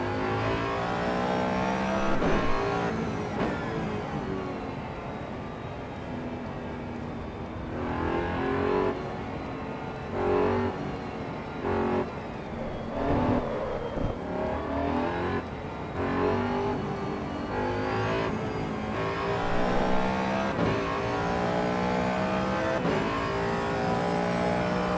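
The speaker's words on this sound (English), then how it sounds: "It's the intake sound. The induction sound is what they nailed." Ford Coyote V8 in Project Motor Racing gives a loud, continuous intake and induction roar, revving up and down through repeated gear shifts for the whole stretch, close and with no talk over it.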